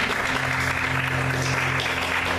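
A church congregation claims steady, dense applause, a continuous wash of many hands clapping together without a break.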